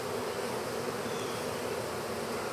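Honeybees nesting in a cat house hum in a dense, continuous buzz, close and steady with no pauses.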